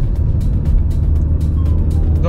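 An Alfa Romeo Giulietta engine under light acceleration, a steady, close low rumble heard from inside the car, with faint clicks over the top.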